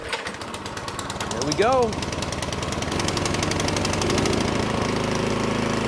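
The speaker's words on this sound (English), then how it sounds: "Let's test the snowblower out and see how she runs." Snowblower engine with a freshly reconnected spark plug pulls over, catches and settles into a steady, loud running chatter that continues to the end, with a brief spoken line near the start.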